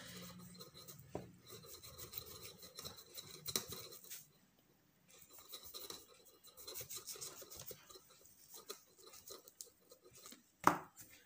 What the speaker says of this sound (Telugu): మీరు నిమ్మకాయని దీన్ని కట్ చేయాలి ఎలా అంటే నాలుగు భాగాలుగా విడిపోకుండా కట్ చేయాలి